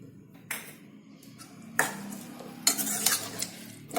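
A spoon stirs a spoonful of jaggery into tuver totha, a pigeon-pea curry, in a pan, giving soft scraping with a few sharp metallic taps against the pan, close and alone.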